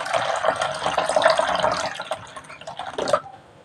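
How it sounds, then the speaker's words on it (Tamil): Cold water pours into a bowl of pani puri masala, a steady splashing, trickling stream close by that swells, then tapers off with a last few drips and gurgles before going quiet. "ஜில்லு தண்ணி நல்லா ஊற்றிடலாம்"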